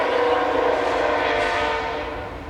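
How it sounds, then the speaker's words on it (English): An American train rumbles past nearby with a steady, loud roar and a chord-like horn tone, slowly fading toward the end. "Hear that American train?"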